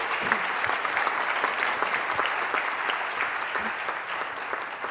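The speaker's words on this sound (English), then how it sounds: "Can we get a round of applause for all of our speakers?" An audience at a nutrition panel event gives the speakers a round of applause, a dense, steady clatter of many hands clapping throughout, fairly close and without talk.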